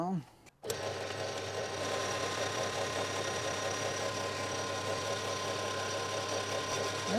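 A metal lathe turns a fine 0.05 mm taper over 125 mm while making a tap follower. After a brief pause it sets into a steady, even machining drone with a rhythmic mechanical patter. The drone runs close and continuous to the end.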